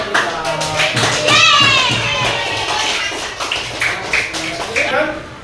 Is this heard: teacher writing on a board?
no